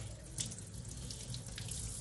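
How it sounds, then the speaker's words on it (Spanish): Cold tap water runs steadily into a sink while a freshly cleaned fish is rinsed, a continuous close hiss and splash with no talking. "lo único que hay que hacer es lavarlo con agua fría"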